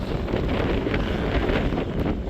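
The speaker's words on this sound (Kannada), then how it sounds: "ಗಾಳಿ ತಣ್ಣಗೆ ಗಾಳಿ ಬರ್ತಾ ಇದೆ ನೋಡಿ." Cool wind blows steadily across a hilltop viewpoint, buffeting the microphone with a loud, continuous rumbling roar and no pauses.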